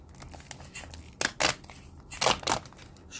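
A knife slices through salmon, cutting it into strips with the skin left on, giving several close, crisp cutting and crunching strokes in quick pairs over a quiet background, with no speech.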